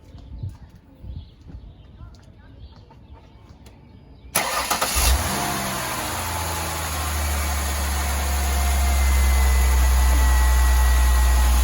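A 2002 Ford Escape XLT cranks and fires up after quiet background sounds, then settles into a loud, steady idle with a low engine drone that slowly builds.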